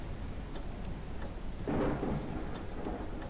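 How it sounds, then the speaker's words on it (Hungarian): Storm ambience from the video game Forever Skies: a steady wash of rain noise with a low rumble of thunder swelling briefly midway, moderately quiet and without speech. "Ne süketüljünk meg azért a vihartól,"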